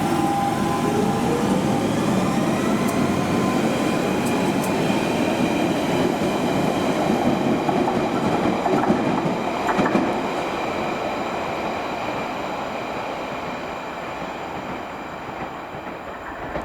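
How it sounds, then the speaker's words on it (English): A London Underground Central line train rumbles steadily and loudly, wheels clattering on the rails, with a high squealing tone as it pulls away from Fairlop station heading south and gradually eases off. "as the train leaves Fairlop heading south"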